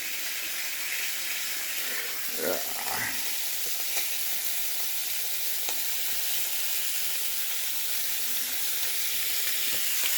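Bacon frying in a pan gives a steady, bright sizzle and hiss, close by, with a few soft scraping stirs and no voices over it.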